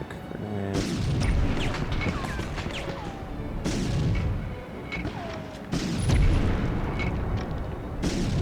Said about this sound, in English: Stick grenade.